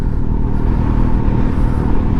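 A 2019 Suzuki GSX-S750 motorcycle engine runs steadily close by, a loud, even, low rumble with no revving and no voices.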